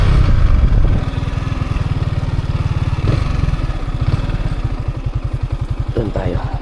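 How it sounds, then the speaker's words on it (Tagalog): Several motorcycles rumble past on a road, a loud, close, rhythmic putter of engines that swells and settles, with faint voices underneath. "So, ang dami motor no,"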